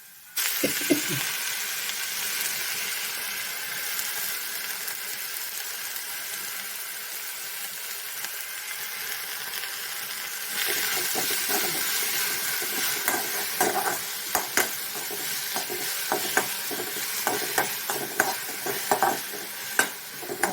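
Hibiscus flowers fry in a pan with a constant broad hiss of sizzling oil. Partway through the sizzle grows louder and is joined by quick clicks of stirring.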